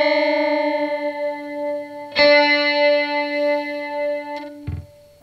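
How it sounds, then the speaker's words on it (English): Guitar sustaining a chord through an EarthQuaker Devices Rainbow Machine pedal set to a heavily detuned chorus, wavering and warbling, with a fresh strum midway and a low thump near the end, no voices. "So now we have like a heavily detuned chorus."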